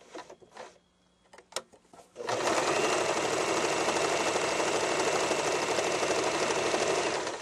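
A green Swiss Elna Sewing Fun sewing machine runs steadily, stitching after a couple of soft handling clicks, its fast mechanical whir and needle patter holding even and close for several seconds.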